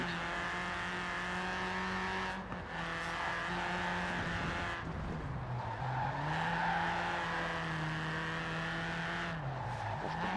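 A car engine hums steadily through driving in the racing game Forza Horizon 4, the pitch rising and falling with throttle and a few brief tire-squeal moments, moderately quiet and without talk.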